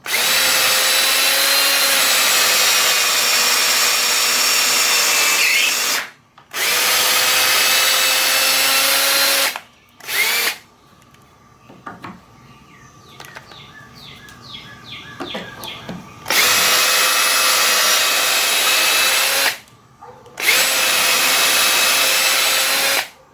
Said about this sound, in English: So now I'm just going to continue to drill on.